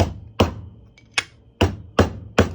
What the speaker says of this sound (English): a rubber mallet, and you just want to just work your way around the bushing and make sure it's fully seated down